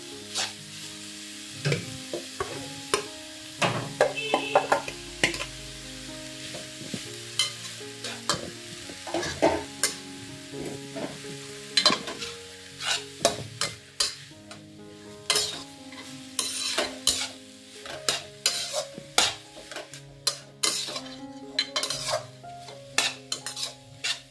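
Carrot halwa made with milk powder is stirred in ghee in a metal pan, with repeated close scrapes and clinks of the spoon against the pan over a continuous low sizzle.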